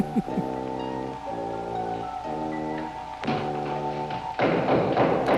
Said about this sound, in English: Knocking. I forget what you're supposed to do when you hear that sound.